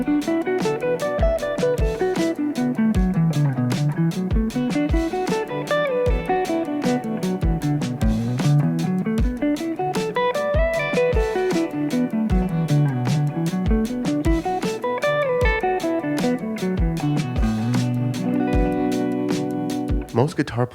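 Electric guitar running a pentatonic scale up and down at a fast tempo with slides between positions, even picked notes rising and falling in repeated waves, loud and clear with no talking.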